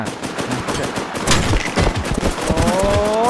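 Rapid bursts of gunfire ring out in a video game, with a fast machine-gun rattle and sharp individual shots close by. The shots run continuously throughout the moment.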